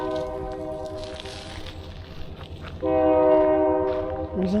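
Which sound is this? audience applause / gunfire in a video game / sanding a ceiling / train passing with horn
train passing with horn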